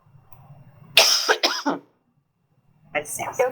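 A woman coughs in a couple of loud close bursts around the second mark, then a pause follows, and later bursts of further coughing or throat clearing come with faint background voices and low hum.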